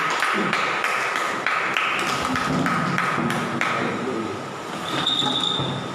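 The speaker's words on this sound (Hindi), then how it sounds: "सारे पवित्र आत्मा वाली ताली बजाएंगे।" A group claps hands in a rhythmic, repeated pattern, crisp slaps at a steady pace, then fades out toward the end.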